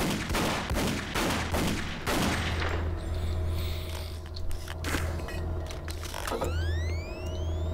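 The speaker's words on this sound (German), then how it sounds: "dann schießen wir das Ding mal weg" Gunfire in the shooter Doom 3, a rapid burst of shots at a blocking object in the opening seconds, followed by mechanical clanks, debris and electronic whirs.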